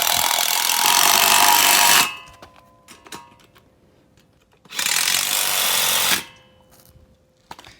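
A power tool whirs loudly in two bursts of about two seconds each while bolts are installed on a motorcycle tire changer, with quiet clicks and handling noises in the gap between them.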